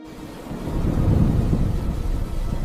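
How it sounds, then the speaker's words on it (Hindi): Heavy rain falls with thunder, a deep rolling rumble that swells and holds over a steady wash of rain, with no voices. "अगली सुबह तेज बारिश हो रही थी"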